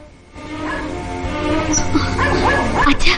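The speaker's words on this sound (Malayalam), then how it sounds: "പട്ടി വല്ലാതെ കുരയ്ക്കുന്നു" A dog in a Malayalam comedy film scene barks and yips agitatedly, close and loud, in a quick, excited run of barks with voices mixed in.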